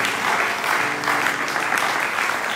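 A church congregation bursts into loud, dense applause, a continuous crowd of many hands clapping close by with no break.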